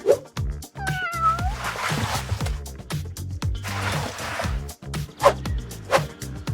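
A pet cat meows repeatedly at close range, with drawn-out, pleading cries and short pauses between them, some rising into a whiny caterwaul.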